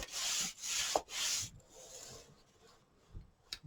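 Paper being scored on a scoreboard with a tool, making a few close, quiet rubbing strokes, then softer scraping and a brief tap near the end.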